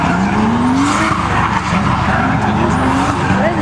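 A drifting car with a Honda VTEC engine skids at a car show, tires squealing loudly over a revving engine whose pitch rises and falls as it slides close by.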